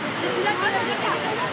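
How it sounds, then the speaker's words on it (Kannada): Water pours continuously into the 9/11 Memorial pools at the World Trade Center site in New York, a dense, steady broadband rush close by with faint voices blended into the roar. "ನೀರು ಮೆಮೋರಿಯಲ್ ಮ್ಯೂಸಿಯಂ ಅಂತ ಈ ಥರ ನೀರು ಬೀಳೋ ಹಾಗೆ ಸತತವಾಗಿ ಮಾಡಿದ್ದಾರೆ"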